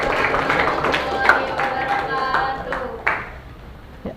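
Students clap together in a classroom, a dense patter of many hands that holds steady and then thins out toward the end, with voices murmuring underneath.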